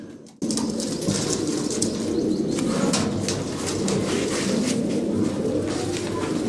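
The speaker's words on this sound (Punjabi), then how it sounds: "ਰਾਜਨ ਵਾਲੇ ਕਬੂਤਰ ਜੀ" A flock of Rajan line pigeons coo continuously at close range, with bursts of wing flapping mixed into the dense, steady throaty murmur.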